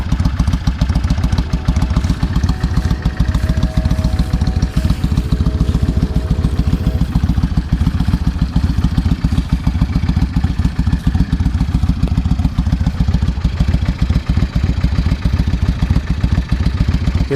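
A 2002 Yamaha XVS650 V-Star motorcycle with loud pipes, its front cylinder fouling a plug from bad piston rings, runs with a loud, close, continuous throbbing exhaust beat and clatter, steady for the whole stretch with no talking.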